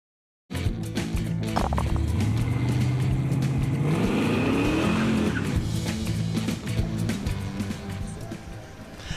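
Cars roll along Saginaw Street in the Back to the Bricks rolling cruise, a loud nearby engine revving up in a rising sweep with tire noise amid a steady crowd of passing traffic.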